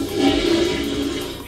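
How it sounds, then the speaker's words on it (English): A toilet flushes in a short, steady rush of water with a low gurgling swirl, loud and close, as a sound effect in a Minecraft sound-guessing game. "Toilet flushing."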